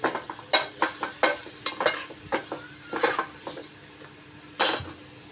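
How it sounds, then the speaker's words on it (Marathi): Turmeric and Malvani chilli masala sautéing in a pan, with steady soft sizzling broken by repeated scraping and stirring strokes of a spoon against the pan, close and clear, no voices. "आता मी त्यात टाकत आहे हळद, मालवणी तिखट मसाला आणि ते सुद्धा मी छान परतून घेणार आहे"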